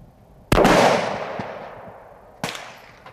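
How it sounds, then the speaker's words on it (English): Two sharp gunshots from a custom-made rifle at a shooting range, the first loud with a long decaying echo, the second about two seconds later and slightly softer, with no talking. "gave me a lesson at a shooting range using one of their custom-made rifles"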